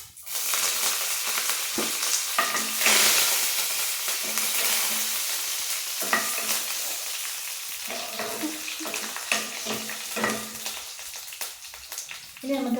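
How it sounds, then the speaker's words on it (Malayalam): Curry leaves and fenugreek seeds sizzle and crackle in hot oil for a mango pickle, a steady close frying hiss with sharper pops and occasional stirring scrapes. "ഉലുവ ഇട്ടൊന്ന് ഏകദേശം ഓക്കെ ആയി വരുമ്പോൾ നമുക്ക് കറിവേപ്പിലും കൂടി ഇട്ട് കൊടുക്കാം"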